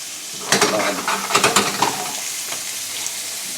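Spiced, rubbed pork pieces sizzle and fry in olive oil in a pan, a steady close hiss with stirring clatters and bursts of crackle, no voices.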